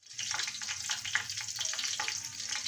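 Chicken pieces fry in hot oil with a steady, dense sizzle and crackle, moderately close and continuous, with no talking.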